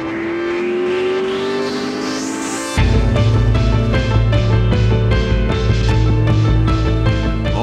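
A McLaren drives along the road with a steady engine drone: a rising whine first, then a sudden jump to a louder, fuller note with rhythmic pulsing as it keeps going, with no talk.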